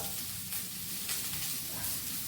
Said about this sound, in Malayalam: ചെറുതായിട്ട് അരിഞ്ഞിട്ടേക്കുന്ന സവാള ഇട്ട് കൊടുക്കാം